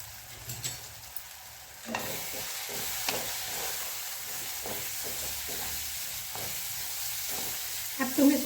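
Onion, tomato and crushed peanuts sizzle and fry in a pan while a spoon stirs them, a steady close hiss with soft scraping strokes and no voices.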